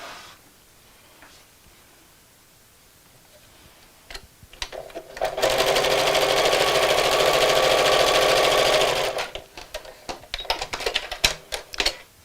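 A sewing machine stitches two fabric pieces together with a quarter-inch seam, making a steady close-up whirring run of about four seconds after quiet handling noises, followed by clicks and rustling.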